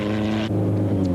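A Porsche engine in a single-seater rally car at the 1999 Baberspan 500 drones loudly and steadily, a continuous near rumble with no pause.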